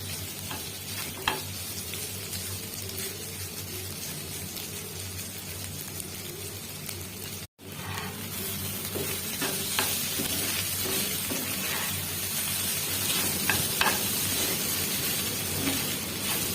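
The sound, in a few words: fish with roe frying in oil with spices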